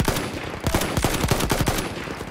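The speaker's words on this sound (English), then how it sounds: "Machine gun over there." Rapid machine gun fire in a World War I game at Achi Baba, a quick rattling burst of about a dozen close, evenly spaced shots with no talking.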